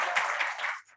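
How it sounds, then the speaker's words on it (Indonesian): Applause and clapping from a talk-show audience at a national youth leadership event, a short dense burst that fades out abruptly near the end. "Kasih tepuk tangan dulu dong."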